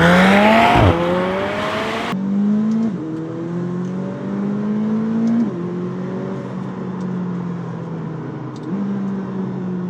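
A McLaren 720S sports car drives along a road toward a village, its engine rising and falling in pitch through several gear changes and slowing down, steady and close with no talking.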